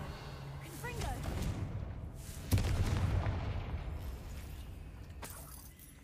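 Confringo blasting spell going off in Hogwarts Legacy, a sharp crack midway followed by a rolling boom that fades out, set among softer magical whooshes and game ambience.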